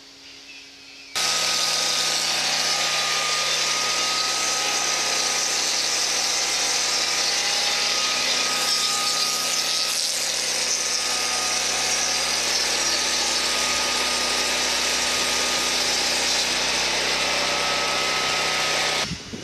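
A D&L 12-inch engine-powered planing and chamfering swing blade starts abruptly and runs on log timber for cabin walls, a loud, steady high-pitched whine and engine drone that holds almost unchanged to the end.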